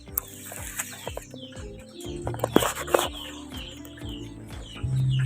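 Rhode Island Red chickens cluck in a run of short, repeated calls, with a few sharper squawks and chirps mixed in, close by and fairly clear.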